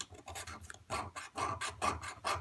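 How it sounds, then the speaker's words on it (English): Harsh scraper rasping across a surface, a quick series of rough rhythmic strokes, about eight or nine, close and fairly loud with no talking. "this scraper is harsh"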